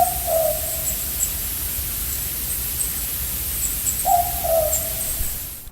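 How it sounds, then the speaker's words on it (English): Owl hooting at night, two separate low hoot phrases a few seconds apart, moderately distant, set against steady hissing background noise. "I know it's an owl, but what sort"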